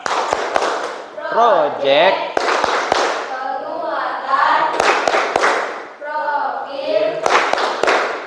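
A group of students claps in sharp rhythmic bursts while chanting a Pancasila learner cheer at an Indonesian school. The loud clusters of claps punctuate the sung phrases, with voices chanting between the claps throughout.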